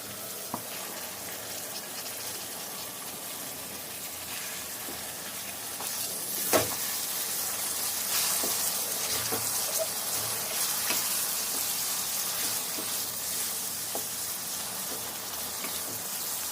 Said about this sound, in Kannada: ಟೊಮೆಟೊ ಒಂದು ಎರಡು ನಿಮಿಷ ಫ್ರೈ ಆಗಲಿ